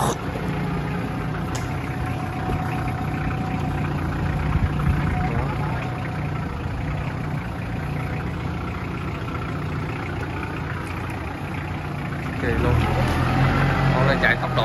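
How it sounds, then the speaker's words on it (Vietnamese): A Japanese-made Dai Thanh 551C Turbo engine runs smoothly at high revs with a steady, close mechanical drone, while someone talks over it. "Máy móc cực kỳ là êm, không có tí khói, còn tua rất là cao luôn mà."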